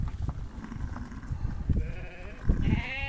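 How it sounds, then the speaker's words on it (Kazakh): Sheep in a rural flock bleating, two wavering bleats in the last second, heard over shuffling, rustling and low outdoor noise from the animals nearby. "Қойдың маңырағанда еміреніп тұр."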